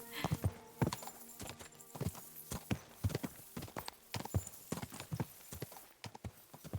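Horse hooves clip-clop in the video game Kingdom Come: Deliverance II, a quiet, steady stream of irregular hoof strikes on hard ground in a large town, with faint background ambience.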